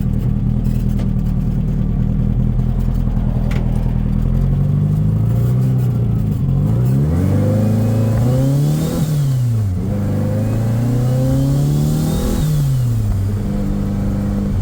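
A turbocharged, lowered VW Beetle engine revs hard several times in quick succession, loud and close, each rev climbing and falling with a sharp rise into boost, with mechanical clatter underneath.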